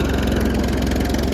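A farm tractor engine idles steadily nearby while a heavy harrow implement is hitched, a continuous low throbbing rumble with constant loudness and no talk.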